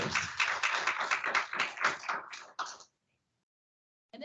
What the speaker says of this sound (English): let's again give a round of applause for all of our newly elected senators